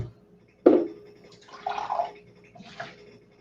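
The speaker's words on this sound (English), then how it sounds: "And now put the hot water in with the tea bag." Hot water poured onto a tea bag in a cup, a sharp initial splash followed by short gurgling pours and trickles, close and fairly quiet.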